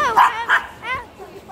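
A dog lets out a few short, sharp barks and yips close by, spaced unevenly across a brief moment, with a softer whimpering tone trailing at the end.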